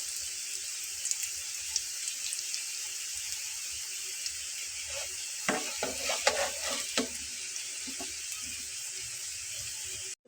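A batch of potato pakoras deep-fries in oil with a constant bright hiss, and a cluster of spoon scrapes and clinks comes midway through, close by.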